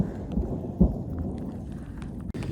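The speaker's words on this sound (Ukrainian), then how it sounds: "гроза починається, дуже сильно гримить прямо біля нас" A low, rumbling boom of thunder rolls in close by on a mountain via ferrata in Austria, with a sharp burst near the start, over steady rain and outdoor noise.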